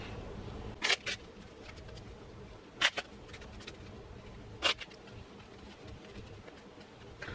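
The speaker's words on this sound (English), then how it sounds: "let's shuffle these up and see what we get." Three sharp riffle-and-snap bursts of card shuffling stand out at spaced intervals over a quiet, rustly background.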